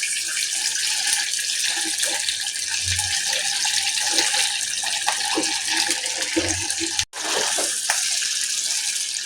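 Sabudana vada, a tapioca-pearl fritter, fries in hot oil with a loud, steady, close hiss and crackle. A brief dropout occurs near the end.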